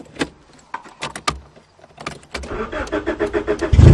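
A 1990 Honda Civic is started with its keys: a few sharp jangles and clicks near the car, then the engine turns over and catches into a loud, steady running rumble.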